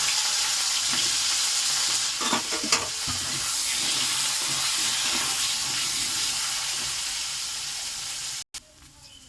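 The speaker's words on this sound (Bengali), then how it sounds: "আলু আমি কিছু ডুমো ডুমো করে কেটেছি, দিয়ে আমি এটা লাল করে ভাজবো" Diced potatoes fry in oil, a loud, continuous hiss and crackle with a few knocks of stirring in the middle, cutting off abruptly near the end.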